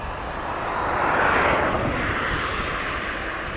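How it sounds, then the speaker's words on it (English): Airplane at East Midlands Airport, a jet roar that swells to a peak and then stays as a broad, steady rumble, fairly loud and heard alone without talk. "There's an airplane for you"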